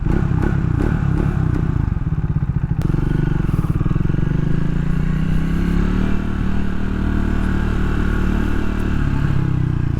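A Triumph Speed 400 motorcycle rumbles through its muffler at close range, a loud continuous low exhaust tone that holds steady and swells as the engine pulls, with wind and some clattering early on.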